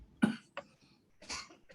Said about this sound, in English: Oh, you cough also?